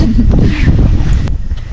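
Strong wind batters the microphone outdoors on a hike, producing loud, low rumbling buffeting throughout, with faint talk and a few sharp clicks underneath.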